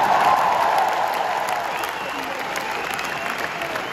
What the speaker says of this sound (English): Can I have a round of applause for the former glory?